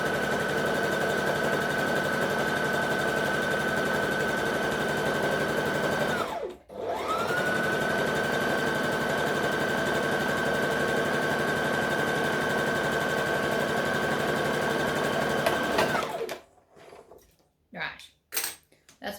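A sewing machine stitches a dress seam in a long, steady close whir, briefly pausing once before running on, then stopping, followed by a few soft handling clicks and taps.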